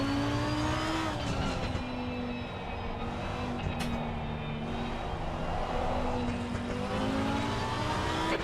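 Lamborghini Huracan GT3 Evo 2 race car engine in a cockpit-view racing video game, a steady loud drone with gear-shift steps and rising and falling revs throughout, no voices.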